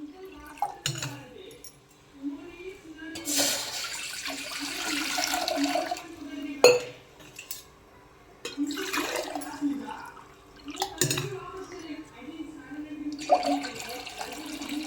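Water from a metal jug is poured into a cooking pot on a gas stove in several splashing bursts separated by short pauses, fairly quiet and close, with occasional voice in between.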